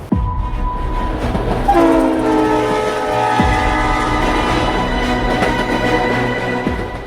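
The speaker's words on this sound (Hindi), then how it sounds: "कैसे ये रेलगाड़ी इस पुल के ऊपर से गुजर रही है।" A train crossing the Pamban vertical lift bridge sounds a long, loud horn over steady rumbling wheels and rail noise that continue throughout.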